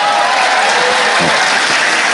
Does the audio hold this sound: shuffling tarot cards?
no